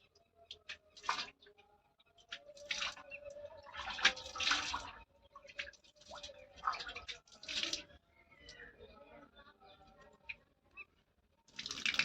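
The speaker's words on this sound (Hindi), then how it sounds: "उसके बाद में आपको अपनी आंखों पर छींटे मारने हैं।" Water splashed by hand onto the eyes, done with the mouth held full of water as an eye-washing exercise; several bursts of splashing and dripping come close up, separated by quieter trickles, with no talking.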